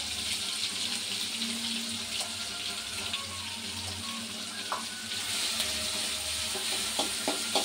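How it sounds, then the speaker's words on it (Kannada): Crushed green chillies fry in hot oil, a steady loud sizzle with crackles and occasional stirring clinks throughout, no voices. "ಎಣ್ಣೆಲಿ ಫ್ರೈ ಮಾಡ್ಕೊಬೇಕು ಚೆನ್ನಾಗಿ"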